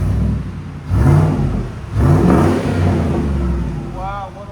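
A 2014 Ford Raptor with a 6.2L engine and Carven TR-Series exhaust revs in two loud, close bursts and then settles into a rumbling idle, while people talk nearby.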